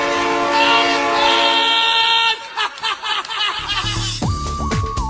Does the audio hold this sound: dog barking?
no